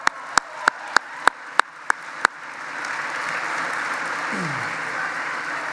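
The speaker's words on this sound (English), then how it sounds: "Round of applause for them, please" A few sharp, isolated claps ring out at a high school convocation ceremony before the graduation audience breaks into a broad, sustained round of applause that swells and carries on to the end.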